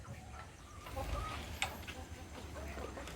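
Native hens and an upgraded native hen rooster cluck softly and intermittently in a backyard coop, faint and somewhat distant over low background rumble.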